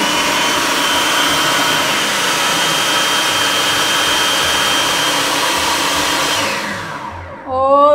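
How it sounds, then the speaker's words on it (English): A kitchen blender whirs loudly and steadily, blending ingredients with lemon and olive oil, then winds down near the end as its motor tone drops and cuts off. "We're gonna blend it up."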